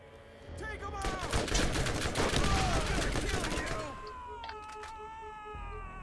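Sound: gunfire in the video game Borderlands

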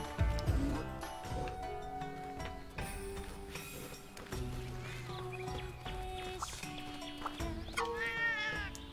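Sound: cat meowing in Monster Hunter Rise video game

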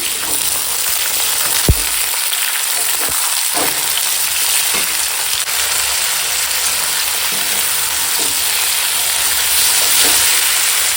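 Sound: beans, radish and potato frying in a pan

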